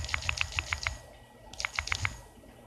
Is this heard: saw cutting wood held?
no